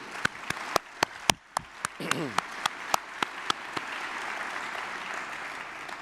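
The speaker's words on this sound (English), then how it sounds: "please join me in a round of applause for Dorn and Kim." Sharp, evenly spaced claps build into a steady wash of audience applause at a conference, with a voice briefly heard beneath it.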